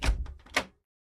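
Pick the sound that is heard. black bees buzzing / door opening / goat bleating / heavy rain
door opening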